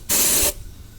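Short, loud hiss of underseal sprayed through a Draper nozzle fed by an air compressor, on the front chassis of a Jaguar XKR/XK8, lasting under half a second before cutting off.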